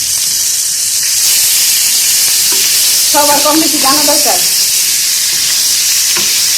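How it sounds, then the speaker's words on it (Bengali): Fish fries in a pan, seasoned with turmeric, salt, dried chili and lemon juice, giving a loud, constant sizzle and hiss throughout, while a voice speaks briefly over it midway. "এই দেখেন ভাজতেছে।"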